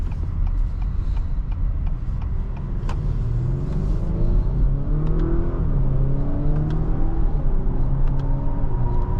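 A 2024 Acura RDX A-Spec Advance with all-wheel drive accelerates, heard from inside the cabin: a steady low engine hum rises smoothly in pitch through the gears, under road rumble and a few soft clicks.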